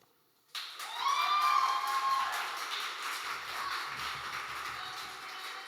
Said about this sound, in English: Another round of applause for Kalia,